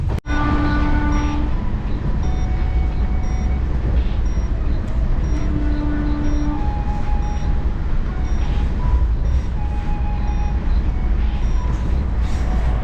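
Amrit Bharat Express train, the Benaras to Sealdah service, running at speed, heard from inside a general class coach: a loud, continuous rumble and rattle of wheels on track with occasional high tonal whines and squeals riding on top.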